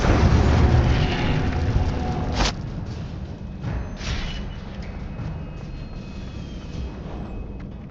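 Spell-casting effects in the video game Hogwarts Legacy, a loud rumbling blast that slowly decays, punctuated by two sharp bursts, with no talk over it.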